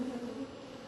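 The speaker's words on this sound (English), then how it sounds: "We're hunting young bees." Honey bees swarm-buzzing inside an opened hive heavy with honey, a steady close droning hum that holds evenly throughout without any voices.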